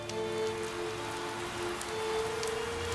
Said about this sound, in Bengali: বাইরে তখন বৃষ্টি নেমেছে ঝমঝমিয়ে